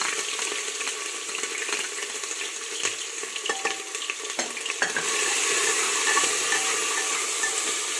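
Crushed ginger and garlic fry in hot oil in a pot while being stirred, a steady close sizzle with scattered scraping clinks of the spoon, growing a little louder partway through.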